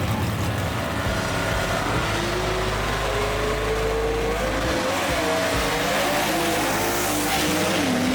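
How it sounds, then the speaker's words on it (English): A little Chevy gasser drag car launches hard with a long smoky dig at Kil-Kare Dragway, its engine roaring with a rising pitch, steady and loud over broad track noise, with no talk. "Rod Bergner, the Iceman, with a long smoky dig right there in his little Chevy too."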